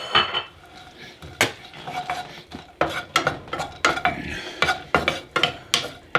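Raisins and pine nuts cooking in olive oil for sautéed spinach, with a utensil clattering and scraping against the pan in quick irregular strokes over a faint sizzle, close and clear.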